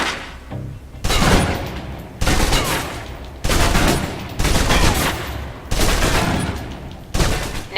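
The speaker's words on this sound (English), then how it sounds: "Now, let's move on to the submachine gun." A submachine gun in the video game Alpha Protocol empties a full magazine in loud, rapid bursts of automatic fire, about six bursts separated by short pauses.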